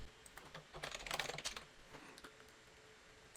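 Rapid typing on a computer keyboard while entering CSS margin settings in a web page builder, heard as close, quiet clusters of key clicks with no talking.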